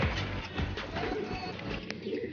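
A blue bar racing pigeon in a loft gives low, soft cooing, close and steady against a busy background hum, with no talking over it.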